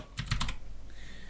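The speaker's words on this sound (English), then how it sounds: "we're going to type Izzy's name" A name is typed on a computer keyboard for a Christmas card: three quick key clicks in a fast row, close and distinct over a faint background hum.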